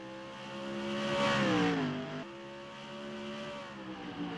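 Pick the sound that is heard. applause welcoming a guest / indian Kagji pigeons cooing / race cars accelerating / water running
race cars accelerating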